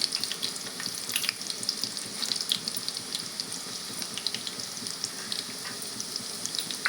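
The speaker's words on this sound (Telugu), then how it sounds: "పోపు దినుసులు అండి వేస్తున్నాను" Tempering spices are dropped into hot oil already holding onion pieces and dried red chillies for tomato dal. A constant close sizzle is broken by scattered small crackles and pops, and no one speaks.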